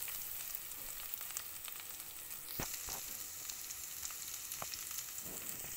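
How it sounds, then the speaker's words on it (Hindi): Yogurt going into a sizzling ginger garlic paste masala for chicken korma, a quiet steady frying hiss with a few sharp knocks and scrapes partway through, nobody speaking. "मैं यहाँ पर इस मसाले में 1 कप दही डाल रही हूँ जो 250 ml है।"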